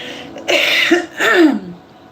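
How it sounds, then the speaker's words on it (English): Two hoarse, close coughs in quick succession, each a short harsh burst. "I am so sorry that I'm coughing"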